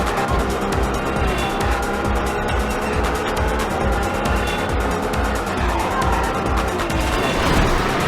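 A car races through the Bel Air and Beverly Hills streets of Los Angeles in the video game Midnight Club 2, with a loud, continuous engine roar, revving and tire noise alongside game music and effects.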